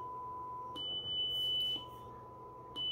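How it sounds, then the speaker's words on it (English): Steady electronic test tones from a CD4066 analog switch circuit alternate between a 1 kHz tone and a 3 kHz tone, each held as a clean continuous beep and flipping back and forth a few times. "the 1 kHz tone and the 3 kHz tone controlled by this guy talking to the CD4066"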